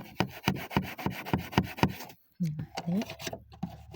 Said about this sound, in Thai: แปรงสีฟันเก่าขูดออกเหมือนเรา ล้างรองเท้าอะค่ะ